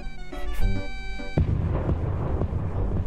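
Fire attack in the video game Miitopia: after a short musical jingle, a sudden booming burst erupts into a loud, rumbling roar that sustains to the end.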